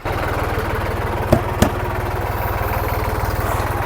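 A tractor diesel engine, on a farm preparing fields for paddy, runs loud and close with a steady rapid chugging throb. Two sharp clanks break in briefly partway through.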